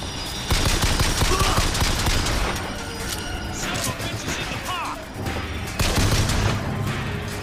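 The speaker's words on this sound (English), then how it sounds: "I will shoot this gun wherever the bullet takes me" Loud bursts of rapid gunfire in the video game Bioshock Infinite, with crashing impacts and booms, come in several clusters separated by brief lulls, with a voice talking over parts of it.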